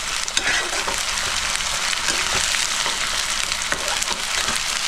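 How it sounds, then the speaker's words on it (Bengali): Chicken gizzards sizzle hard in a hot pan as ginger-garlic paste is stirred in. A constant loud frying hiss runs through it, with frequent spatula scrapes and taps. No one talks. "এবার আমি আদা রসুন বাটা দিয়ে দিচ্ছি 2 চামচ, বড় চামচের, দিয়ে মিক্স করে নিচ্ছি"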